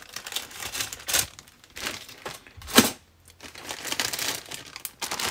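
Plastic bag crinkling as parts from a Meng 9A52-2 Smerch rocket-launcher model kit are put back in, with crisp, close rustling bursts and one sharp louder crackle in the middle.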